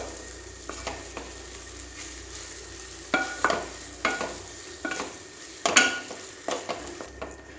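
Leftover khichdi frying in a hot tempering pan and being stirred, a soft continuous sizzle broken by repeated scraping and clinking strokes against the pan, louder toward the end, close up with no talking.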